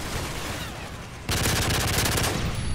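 Gunfire in the video game Modern Warfare 3: dense continuous automatic fire that jumps louder midway into a heavier rattling burst, close and steady, with no voices.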